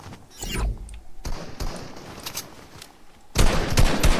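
Bursts of assault rifle fire in Fortnite crackle in quick rapid volleys, with a pause between an early cluster and a louder, denser burst near the end.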